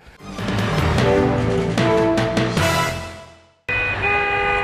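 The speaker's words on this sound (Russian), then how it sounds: "Под нескончаемый гул сигналов, символизирующий народное единство, братство, колонна машин направляется в сторону селения Баму Чеченской Республики." Car horns honk continuously and loudly from a motorcade of vehicles heading toward a village in the Chechen Republic, several tones overlapping, with a brief break near the end before the honking resumes.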